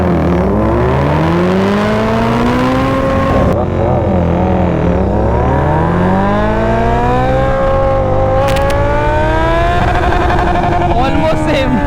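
A Continental GT 650 and a 2024 Kawasaki Z900 accelerate hard in a 0 to 100 drag race, engines revving loudly with rising pitch that breaks at gear shifts, then climbs again. No one speaks.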